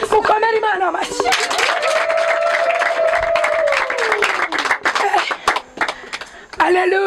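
Congregation clapping together during a Christian prayer-room service, a steady dense wash of hands under a loud sustained voice calling out, with the clapping continuing through pauses in the talk.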